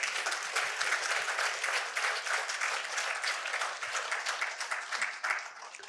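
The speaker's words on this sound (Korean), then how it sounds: "장 총재도 박수 한번 치십시오." A lecture audience in a hall gives continuous applause, many hands clapping at once in a dense, even patter with no talking over it.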